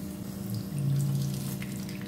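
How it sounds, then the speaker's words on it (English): Sauce is poured over a seafood boil in a steady liquid stream, a close, moderately loud pour that swells in the middle and carries on to the end, with no talking. "Now I'm gonna be pouring the sauce on here."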